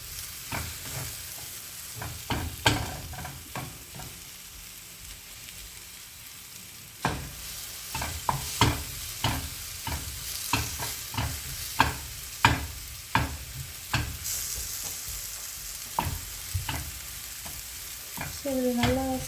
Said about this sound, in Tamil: நம்ம ஸ்க்ராம்பிள் பண்ணுறதுல இந்த ஆனியன்ஸும் நல்லா ஓரளவுக்கு ஃப்ரை ஆகிடும்.